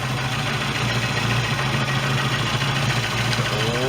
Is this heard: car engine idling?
yes